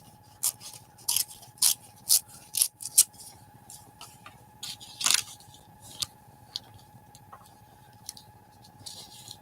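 Paper being torn along the top edge of a donut cutout for a collage comes through as a series of short, crisp rips and crackles in irregular bursts, close and fairly clear.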